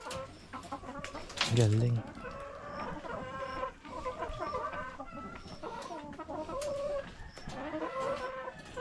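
Hens clucking and cackling inside an egg-laying hen house, several birds calling over one another at close range, with people talking throughout.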